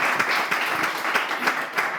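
A studio audience applauds a witness on a French talk show, steady clapping filling the room at an even level for the whole stretch, with no voices over it.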